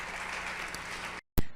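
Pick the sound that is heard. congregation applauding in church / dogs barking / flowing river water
congregation applauding in church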